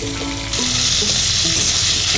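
Ginger sizzling as it is sautéed in a pan with chopped tomato and salt, a loud steady hiss of frying with faint stirring scrapes, no voices.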